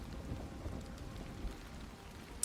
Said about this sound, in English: You hear the pitter-patter of the raindrops against the canvas of the tents around you.